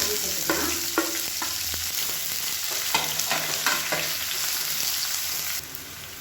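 Chopped onions sautéing in oil with fennel, cinnamon, cloves and curry leaves for prawn thokku, a dense close sizzle with stirring scrapes and clicks of a spoon against the pan.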